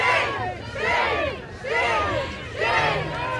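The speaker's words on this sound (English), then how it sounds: "Seems like we got a pretty good crowd." Crowd chanting in rising and falling waves, a loud collective shout repeating roughly every second and a half, with a low background murmur between surges.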